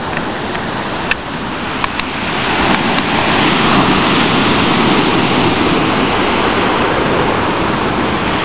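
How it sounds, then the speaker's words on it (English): Rough, heavy sea waves crashing at the Brighton seaside at dusk, a loud continuous roar of surf that swells and builds partway through, with no talking. "There you go, there's the sea. It's pretty heavy tonight, pretty rough."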